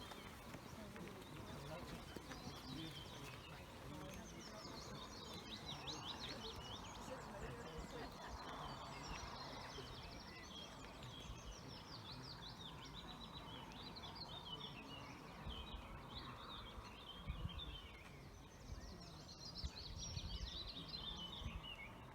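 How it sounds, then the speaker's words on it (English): A willow warbler sings in a spring dawn chorus, its high descending phrases repeating among other birds' calls against a low murmur of background noise and faint movement. "That's the willow warbler. That's a visitor from Africa, one of our summer visitors."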